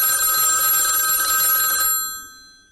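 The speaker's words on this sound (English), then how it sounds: "the phone rang" A telephone bell rings loudly and continuously for about two seconds, then cuts off and its ring fades away, with no talk over it.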